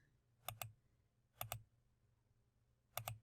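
Three pairs of quick, crisp computer mouse clicks, spaced apart and close up in a quiet room.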